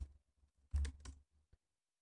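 Computer keyboard being typed on to enter a networking command, a few soft scattered key taps followed by a quick louder cluster of keystrokes and a final single tap, close and alone.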